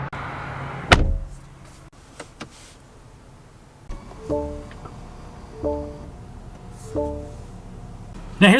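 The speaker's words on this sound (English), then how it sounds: "steering wheel is power adjustable" The power-adjustable steering wheel motor in a 2024 BMW X5 M-Sport cabin whirs in several short, quiet electric bursts, with a click and thump earlier on.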